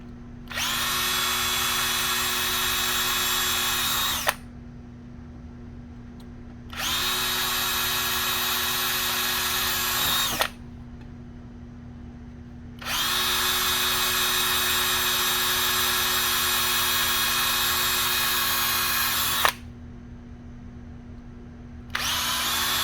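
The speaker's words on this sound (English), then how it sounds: "First, we start with the smaller drill bit, and we drill all the holes" A small drill bit spins up to bore holes in a switch bracket, giving three long high-pitched whirring runs separated by quieter pauses with a low steady hum.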